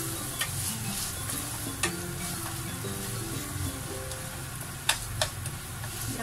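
Spaghetti with holy basil stir-fried in a pan, a soft continuous sizzle with occasional sharp taps and scrapes of a utensil against the pan, no talking.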